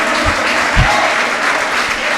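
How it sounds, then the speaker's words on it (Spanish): A church congregation breaks into applause praising the Lord, a thick, sustained wash of many hands clapping at once, with a couple of low thumps near the start. "Alguien que aplauda el nombre del Señor."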